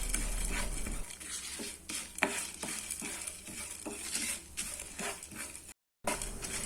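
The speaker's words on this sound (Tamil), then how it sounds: "இதை போட்டு மீடியம் ஃப்ளேமில் வச்சு வறுத்து எடுத்துக்கலாம்." Dry chillies, coriander seeds, pepper, cumin and ajwain roast in a pan over medium flame, with a soft crackle under repeated clinking, scraping stirs; there is a brief dropout near the end.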